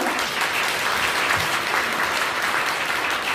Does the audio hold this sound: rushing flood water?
no